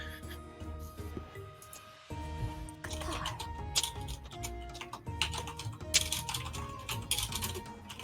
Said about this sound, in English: I'm so used to hearing my players like typing notes while I'm playing.